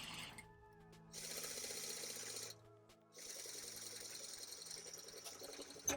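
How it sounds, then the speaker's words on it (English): Sewing machine stitching a fabric face mask seam, two sustained runs of rapid mechanical needle clatter separated by a short pause, close and clear with faint handling noise. "stitch forward and back tack to secure your ends"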